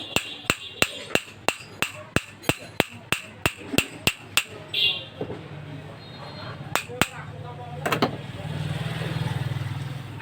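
A hammer strikes a rusty bearing to loosen it, making about fifteen sharp metallic blows in a steady rhythm. A short pause follows, then a few more scattered strikes, with faint speech and a low engine-like rumble in the background.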